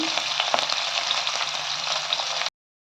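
Onion pieces and curry leaves fry in hot oil, giving a loud, steady, crackling sizzle that holds evenly for about two and a half seconds before cutting off abruptly into silence.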